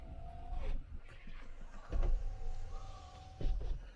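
Power windows on a NIO ET5t electric car close with the soft whir of their motors, followed by a few muffled thumps as the glass seats, all heard close inside the cabin.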